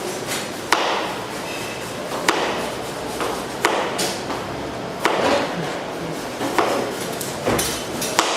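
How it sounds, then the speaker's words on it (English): Carrots being cut into julienne strips with a kitchen knife, about ten sharp, irregular knife strikes against a cutting board over a soft background hiss, with no talking. "we are going to slice, I'll call them julienne slices, which we apply in salads"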